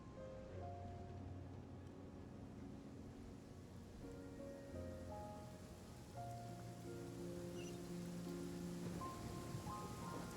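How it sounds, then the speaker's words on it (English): Steady rain hisses through the Genshin Impact game world for about ten seconds, a quiet, constant wash under sustained background music notes. "Oh dear, it's raining."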